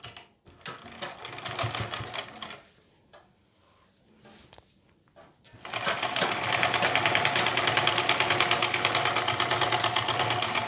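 A sewing machine runs a loose basting stitch along the folded lining of a blouse, starting with short, uneven bursts and some quiet handling, then settling into a loud, steady, rapid needle clatter that holds to the end.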